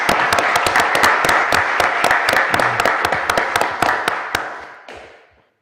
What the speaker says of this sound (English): I think it's worthy of a round of applause.